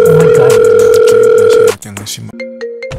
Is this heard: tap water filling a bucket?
no